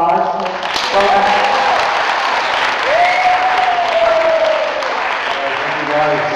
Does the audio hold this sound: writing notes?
no